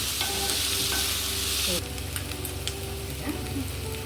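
Bitter gourd palya frying slowly in a pan, giving a steady close sizzle with intermittent scraping stirs, under background music and faint hum.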